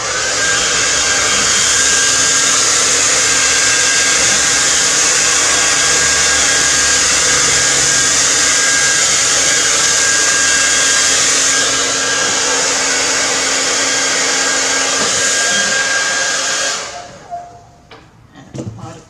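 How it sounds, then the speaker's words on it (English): A hair dryer blasts a steady, loud roar across a rainbow wave paint pour to push the colour around, running continuously before cutting off near the end with a few handling knocks. "I'm going to blow a bit more of this colour off here"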